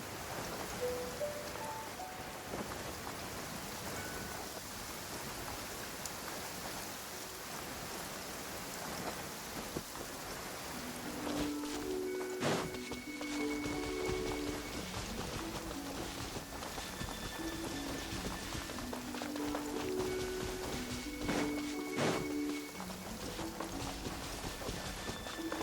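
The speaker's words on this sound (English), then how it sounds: "Taking a stroll in the middle of a downpour certainly rouses the spirit." A heavy rain downpour in the video game Genshin Impact pours steadily throughout, with rumbling thunder and soft game music chiming faintly over the rain in the second half.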